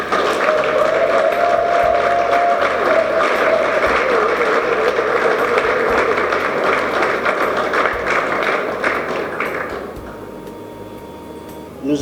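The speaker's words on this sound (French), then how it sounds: "c'est l'ingénieur Joseph Paluku Mboussa, que je vous demande d'applaudir" Dense, sustained audience applause at the second congress ceremony of Unité des Valeurs at Beatrice Hotel fills about ten seconds at steady loudness, then thins out and fades near the end.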